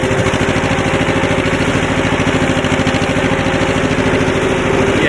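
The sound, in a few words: diesel tractor engine running after cold start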